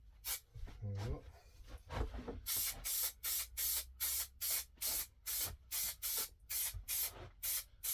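Spray glue hisses from an aerosol nozzle onto a car door card in a rapid series of about ten short, loud bursts with brief gaps, after some earlier handling noise and a low voice at the start.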